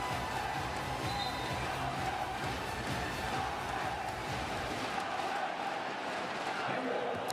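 Basketball crowd filling the Shenzhen Sports Center during a China v Japan FIBA Asia Cup qualifier, a dense, steady roar of many voices with ball bounces underneath and a commentator speaking over it.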